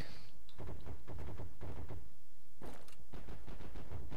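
M1 Garand rifle gunfire in the video game Heroes and Generals, a rapid series of sharp close shots and impacts in quick bursts, loud and clipped, with no talk.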